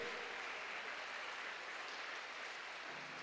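Church congregation applauding together, a steady dense wash of many hands clapping at moderate distance, continuous and even throughout with no distinct individual claps standing out.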